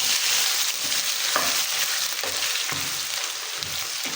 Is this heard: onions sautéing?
yes